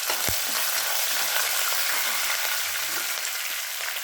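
Curry leaves and green chillies crackle in hot oil in a pan for tomato chutney, a steady close broadband sizzle with a few soft pops and stirring scrapes throughout.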